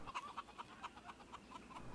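Farmyard chicks in the farming game Pure Farming 2018 give repeated short peeps in a loose, uneven rhythm, quiet and with nothing else audible.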